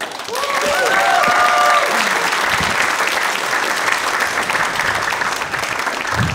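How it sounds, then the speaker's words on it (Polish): A stand-up comedy audience applauds in a sustained, dense burst of clapping, with a few scattered whistles early on before the clapping gradually thins. "Bardzo serdecznie dziękuję za te ciepłe brawa."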